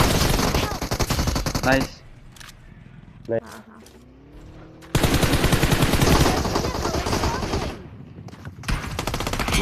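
Bursts of rapid automatic gunfire in a video game, loud and close, with a long sustained volley after a quieter gap; someone talks over parts of it.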